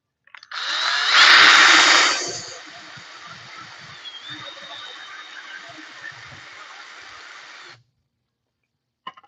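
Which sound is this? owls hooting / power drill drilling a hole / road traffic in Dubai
power drill drilling a hole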